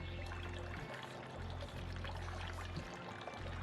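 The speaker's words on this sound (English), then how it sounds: "now we can pour it in and hopefully I don't make a mess while I do that" Apple cider poured into a glass over ice, a soft, steady liquid rush with faint trickling, quiet and close, running continuously without talk.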